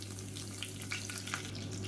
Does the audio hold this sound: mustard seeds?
yes